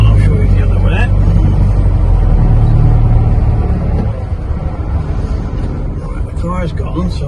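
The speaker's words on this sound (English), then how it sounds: "We'll just wait for 1 second because there's a car coming down." A car approaches and passes on the road beside a parked 1958 Morris Minor 1000 saloon, a low rumbling engine loudest in the first few seconds and then fading, with lighter traffic noise continuing afterward.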